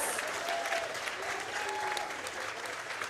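Steady applause and cheering from the crowd at a powerlifting meet, the Northern Open, for a lifter who just locked out a winning attempt; continuous, fairly distant clapping with faint voices under it.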